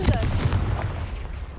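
A Confringo fire spell blasts in the Hogwarts Legacy video game, giving a short burst of loud, booming, crackling impacts that fade quickly.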